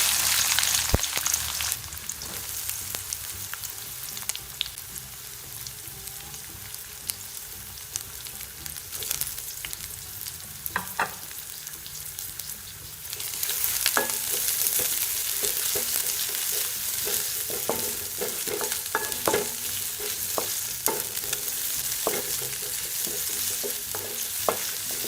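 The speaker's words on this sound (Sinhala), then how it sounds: "තෙල් ටික හොඳට රත් වුණාට පස්සේ මේකට ලුණු, සුදු ලුණු, රම්පේ කරපිච්ච අමු මිරිස් ටික එකතු කරගන්න." Onion, garlic, rampe, curry leaves and green chillies fry in hot coconut oil, a continuous close sizzle and crackle that grows louder midway, with scattered spatula scrapes and no talking.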